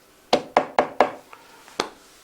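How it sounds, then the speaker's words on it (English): Knocking on a door: four quick, evenly spaced raps, then a faint tap and one more knock after a pause, close and clear with no talking. "he heard a knock"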